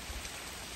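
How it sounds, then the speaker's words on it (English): Heavy rain on a wet winter day pours in a steady, dense hiss heard from a kiosk, continuous and fairly close, with a couple of faint low thumps and no speech. "As you can see, it's a wet, rainy, nasty day. It has poured the rain all night."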